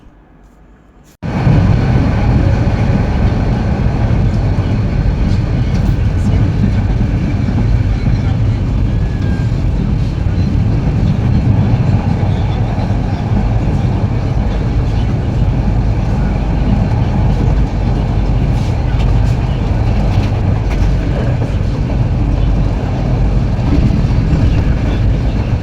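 Inside the Suborna Express train running from Dhaka to Chattogram past Feni Junction, a loud, constant rumble and rattle of wheels on track continues unbroken for over twenty seconds.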